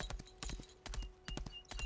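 Horse hooves clip-clop in rhythmic bursts of three or four steps from a mount ridden in the online game Lost Ark, crisp and fairly close over a faint steady hum, with brief gaps between strides.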